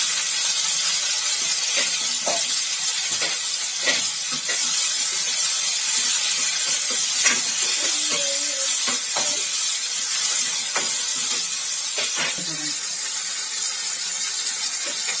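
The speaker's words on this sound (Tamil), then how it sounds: "இப்போ இது நல்லா வதங்கட்டும்" Sliced onions and tomatoes sizzling in a hot pan for an egg thokku, a continuous loud frying hiss with scattered pops and crackles and faint clinks of stirring.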